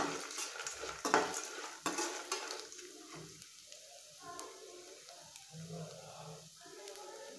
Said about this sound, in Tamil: நிலக்கடலை, நல்லா வந்து ஃப்ரை ஆகட்டும்.